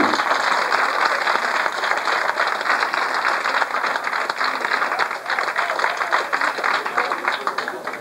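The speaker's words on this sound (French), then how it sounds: "Merci pour les applaudissements, ça nous fait très très plaisir." An audience at a cabaret show in Alençon applauds, a dense, loud and sustained wash of many hands clapping that carries on steadily without a break.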